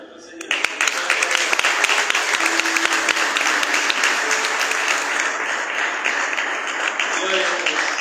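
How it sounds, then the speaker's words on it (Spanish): A church congregation bursts into loud, sustained applause that starts abruptly and fills the rest of the stretch, with faint voices and a cheer or two mixed in. "¿Cuántos pueden dar un aplauso a nuestro Señor?"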